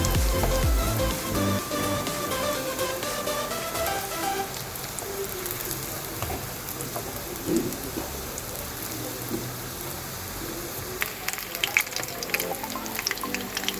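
Ring samosas deep-frying in oil in a wok, a continuous crackling, hissing bubble that holds steady throughout at moderate loudness, with no speech over it.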